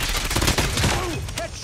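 Rapid automatic gunfire from the mobile shooter Call of Duty Mobile during a Hardpoint match, dense bursts of rattling shots filling the whole moment at close range with no pauses.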